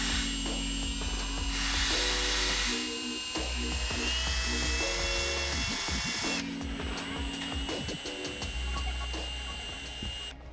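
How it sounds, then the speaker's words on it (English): A 3/8 inch drill boring down through the fiberglass roof of a Jeep Wrangler, a loud steady whine that shifts pitch as the bit bites and then breaks through, with no one talking. "run the 3/8 inch drill from the top down"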